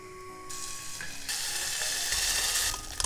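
Bacon hits hot sesame oil in a pot and sizzles loudly, the frying growing stronger and steadier with a few clinks of a utensil near the end.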